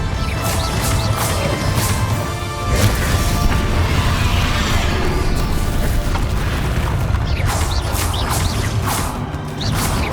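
Bombarda spell explosions in Hogwarts Legacy during a dragon battle: a dense, loud, booming barrage of blasts and crashing impacts with whooshing magic, sustained without letup for about ten seconds.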